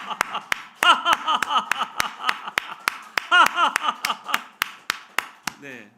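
A congregation claps in a fast, steady rhythm while laughing together in repeated bursts of "ha ha", loud and close, with voices layered over the sharp, even claps.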